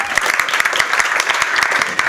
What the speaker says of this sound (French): Yes, on peut l'applaudir.